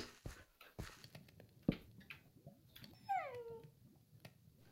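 A tamed wolf at low health whimpers in Minecraft, a faint high descending whine near the end, preceded by soft thuds and clicks of gameplay.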